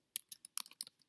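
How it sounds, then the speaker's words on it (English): Typing on a computer keyboard while entering a chart axis title: a close, quiet burst of about eight quick key clicks in an uneven rhythm. "Then I'm going to triple click where it says axis title and type"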